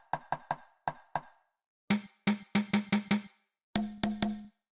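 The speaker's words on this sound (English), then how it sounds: "The conga." Conga hits from an Amapiano sample pack, dry hand-drum strikes in short rhythmic groups, later ones deeper and more resonant, played alone and close.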